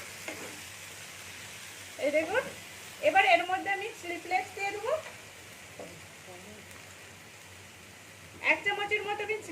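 Potatoes sizzle in a pan as turmeric is stirred through them. A steady frying hiss runs beneath a person talking, with occasional scrapes of the spatula.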